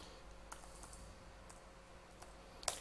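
Keys tap on a computer keyboard in a few sparse, quiet clicks, with a brief sharper cluster of strokes near the end over faint background hiss.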